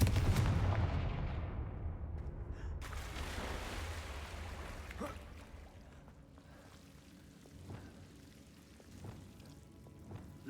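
A Confringo blasting spell explodes in the Hogwarts Legacy video game, a loud, broad burst at the start that decays into a rumbling, hissing tail, followed by a few fainter sharp cracks and thumps.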